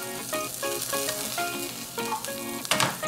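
Garlic frying in a pan for a microwave lasagna, with a steady close sizzle and bubbling crackle that runs continuously, no talking.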